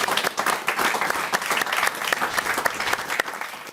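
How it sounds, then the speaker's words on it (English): Audience at a football awards night breaks into sustained applause, dense and steady clapping from a large crowd filling the room, loud and continuous throughout. "Ladies and gentlemen, a round of applause, please."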